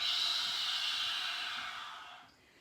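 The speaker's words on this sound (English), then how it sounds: "Exhale." A long, steady exhale through the mouth during a yoga breathing exercise, a close breathy rush of air that holds for about two seconds and then fades away.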